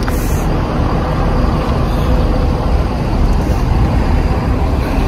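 Steady broadband rumble of a bus interior while riding along a road in Makkah, continuous low engine and road noise filling the whole stretch with no clear voices.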